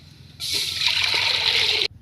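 Water pours in a steady, splashing stream for over a second, close by, into a cooking pot with onions and tamarind, then stops abruptly.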